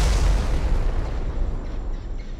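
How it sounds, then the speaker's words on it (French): A huge blast as gunpowder from forty barrels stored deep in a cave ignites, a loud, deep rumbling boom that fills the clip and slowly decays without fading out. "C'est là qu'une énorme explosion se produit alors qu'il arrive auprès de Robinson."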